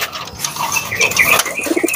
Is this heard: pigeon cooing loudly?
yes